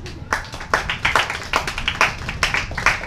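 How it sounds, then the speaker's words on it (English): Audience applause for members of a band at a live Halloween cover show, a dense run of clapping with irregular peaks lasting the whole stretch, fairly close and loud with no talk over it. "Can we give John Spangler a round of applause?"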